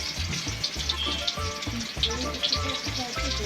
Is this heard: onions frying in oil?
yes